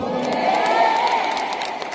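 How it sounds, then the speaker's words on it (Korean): A large fan meeting crowd cheers and applauds, with high voices shouting together over scattered clapping in a loud, continuous swell. "많은 박수 보내주실 수 있죠?"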